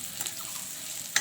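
Spice paste of ground whole red chillies with yogurt and tomato frying in a pan for mutton curry, a soft, steady sizzle close by with light stirring scrapes and a sharper clink at the end.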